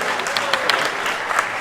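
Steady applause from an audience at a Honda Super Cup and Monkey reveal event, dense, continuous clapping throughout with faint crowd noise underneath.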